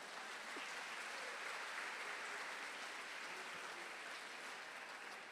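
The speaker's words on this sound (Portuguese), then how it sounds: "Você pode dar um aplauso para Jesus?" Church congregation applauding during a sermon on marriage, a soft, even roar of many hands heard from a distance, sustained throughout without any speech over it.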